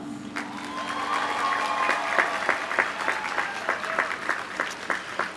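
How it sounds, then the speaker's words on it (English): Audience applause fills a commencement ceremony for a college of business administration, a steady round of clapping from a large crowd that swells and carries on through the clip with sharp individual claps standing out, no voices over it. "please take a moment to acknowledge those individuals who are in the audience today who supported you on this journey with a round of applause"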